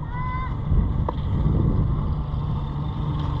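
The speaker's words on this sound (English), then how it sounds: "I already got the engine going and everything set up." A boat engine runs at a marina, a low steady rumble close by with wind buffeting the microphone and a few faint higher tones over it.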